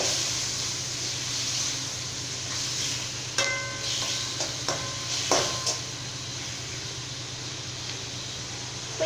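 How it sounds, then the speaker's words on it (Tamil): Ingredients for cauliflower kurma sizzle steadily in hot oil, with a few clinks and scrapes of a utensil stirring in the pan. "இப்போ இது எல்லாமே சேர்த்துட்டு நல்லா வந்து வதக்கிக்கலாங்க."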